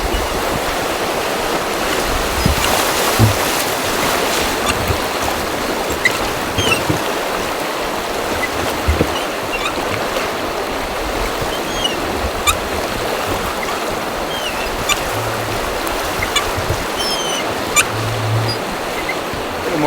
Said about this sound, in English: Now we're getting into some rocks, faster water.